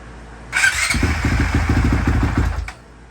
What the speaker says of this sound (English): Well, it turned on, guys.